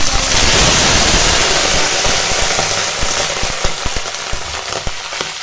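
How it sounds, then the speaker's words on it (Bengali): Mustard seeds and dried red chillies fry in hot oil as a tempering for a tangy hog plum dal, a loud, dense, continuous sizzle that slowly eases, with scattered popping crackles from the seeds toward the end. "এখন তেলের ওপর সর্ষে আর শুকনো লঙ্কা ফোড়ন দিয়েছি"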